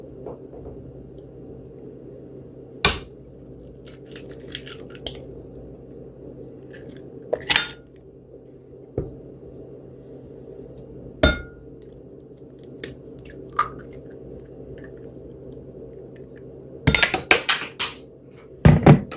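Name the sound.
cracking two eggs into a bowl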